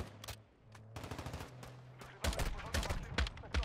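Bursts of gunfire in Warzone 2.0 DMZ, several sharp shots in quick succession, growing louder and denser in the second half over a low engine hum.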